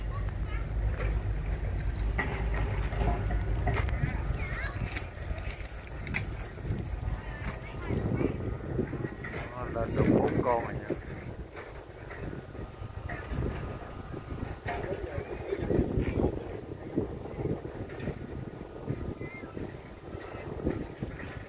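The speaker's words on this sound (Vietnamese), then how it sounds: "Chiều nay lại có gió ngon chứ." Outdoor wind buffets the microphone with a continuous rushing roar while a kite is flown in light wind, loudest at first and then easing into uneven gusts.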